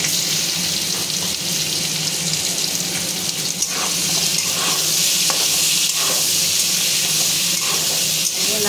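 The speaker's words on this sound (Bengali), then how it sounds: "এর মধ্যে এবার আমি চিংড়ি মাছটা দিয়ে দেবো।" Shrimp frying in a pan with potatoes already cooked in it, a steady loud sizzle with occasional stirring clinks and scrapes running throughout, no talking.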